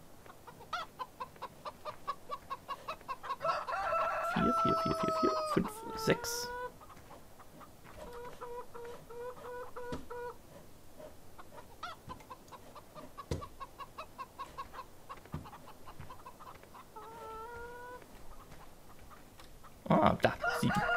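Chickens cluck repeatedly in a farm simulation game, with bursts of nearby clucks and a rooster call over a steady backdrop, while a voice counts aloud in between.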